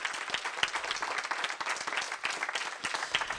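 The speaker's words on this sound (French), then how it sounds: "Je pense qu'on peut applaudir Guy Tonella" An audience at a French talk on attachment relationships applauds speaker Guy Tonella, with steady, dense clapping from a crowd that holds at an even level for the whole stretch.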